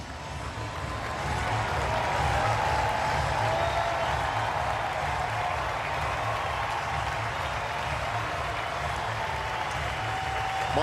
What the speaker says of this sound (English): Troy Melton's going to get a very nice round of applause from Tiger fans this evening